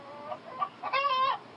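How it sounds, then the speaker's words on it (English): A chicken clucks over a telephone line during a prank call, a few short muffled clucks building to a louder, drawn-out squawk, thin and narrow in tone. "the chicken has escaped and it's gone into the hallway"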